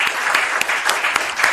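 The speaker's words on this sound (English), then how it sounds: "One more round of applause." Audience applause at a conference session, a dense steady patter of many hands clapping at close range with no voices over it, lasting a short burst.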